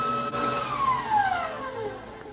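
Electric stand mixer whirring through jelly roll batter with flour, a steady motor whine that slowly falls in pitch, with a faint clatter near the start.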